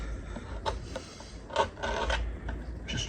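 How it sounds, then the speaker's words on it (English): A chisel scrapes excess plaster off a slip casting mold in short, rough bursts of rasping strokes, close and moderately loud, with no speech. "I grabbed a chisel because the Sureform was kind of gummed up."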